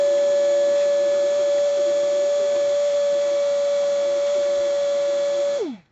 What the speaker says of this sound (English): Gotta re-vacuum first.